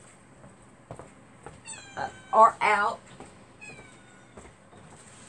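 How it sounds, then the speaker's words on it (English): A mother cat meowing at a door gives several drawn-out meows, two louder close ones in the middle and softer calls around them, with a person speaking briefly. "I got to let Mama Cat in"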